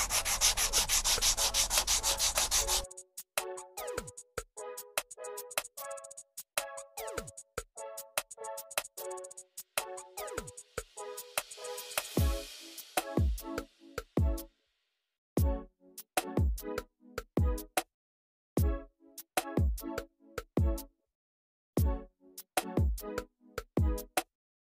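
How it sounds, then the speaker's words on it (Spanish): Rhythmic scraping of 240-grit sandpaper rubbing across a Peugeot 307 HDI body panel, a continuous rasp at first, then steady back-and-forth strokes with brief pauses, close by. "esto ya lo tenemos seco, así que voy a empezar a lijarlo"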